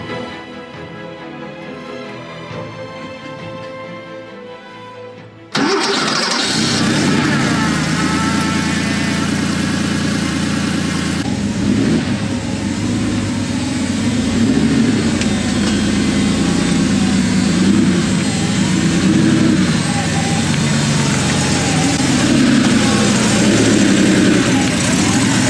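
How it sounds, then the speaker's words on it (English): A quiet stretch gives way to a 1986 Porsche 911 Turbo SE engine starting into a steady, loud idle that rumbles on evenly, with a voice briefly heard early on. "I drive a 1986 Porsche 911 Turbo SE."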